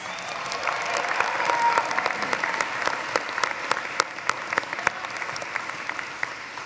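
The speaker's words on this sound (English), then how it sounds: "Let's give them a round of applause." An audience at a business school commencement ceremony in an arena applauds musicians with a steady roar of clapping. It builds in the first seconds, and distinct sharp claps stand out near the microphone as it goes on.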